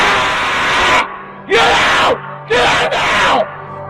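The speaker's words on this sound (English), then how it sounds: "This intruder was screaming at the top of his lungs" An intruder screams at the top of his lungs inside a house at night, loud raw bursts broken by brief silences, close and harsh.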